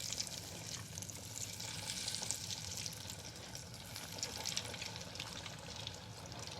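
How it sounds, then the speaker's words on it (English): Beef cutlet frying in a frying pan, a steady close crackling sizzle that runs evenly throughout at low level, with no talking. "So that we can fry it in the frying pan"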